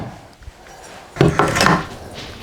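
An old wooden board being pried loose gives a sudden burst of creaking, scraping and splintering wood after a quiet moment, close and fairly loud.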